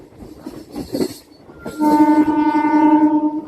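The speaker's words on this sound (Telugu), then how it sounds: "మన ట్రైన్ స్పీడ్ ఏంటో కానీ స్టార్టింగ్లో సామాన్ కూడా తర్వాత కొంచెం కొట్టాడు కానీ దాని తర్వాత అలా మెల్లిగా వెళ్ళామా అన్నట్టు వెళ్తుంది" A MEMU passenger train rolls slowly along the rails, a low rumble giving way to a sustained, steady horn-like tone that holds loud and close for the second half, with no voices.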